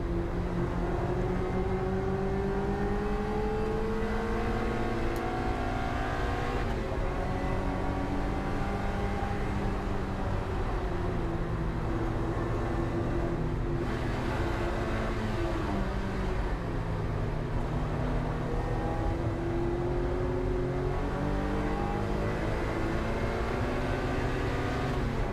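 A Roadsports race car's engine on the Brands Hatch Indy circuit roars continuously from inside the car. The pitch rises and falls through repeated gear changes, and other cars are close by.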